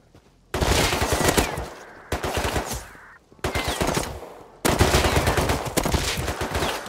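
Automatic gunfire in the video game Rust, four loud sustained bursts of rapid shots separated by brief pauses, close and dominant.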